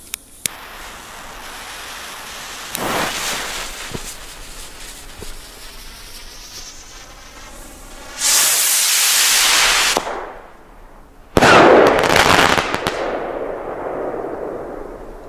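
A Weco Green Hawk firework rocket launches and bursts: a sharp thump and rising whoosh, then a loud crackling explosion that cuts off, followed by a second loud burst with scattered crackles fading away.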